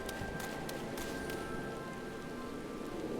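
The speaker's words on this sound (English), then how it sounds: "It's raining in Alamigo too." Rain falling steadily in the video game Final Fantasy XIV, a continuous hiss of drops with faint tonal game ambience underneath and no talk.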